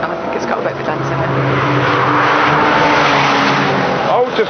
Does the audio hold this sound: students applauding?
no